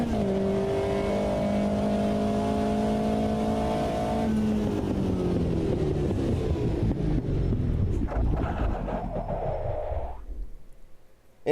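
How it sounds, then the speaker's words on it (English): A race car engine in the Automobilista 2 racing game holds a loud, steady high-rev drone, then stutters and cuts out near the top of the rev range before fading away. "is the sound of the engine just completely going when you get to a certain point of revs"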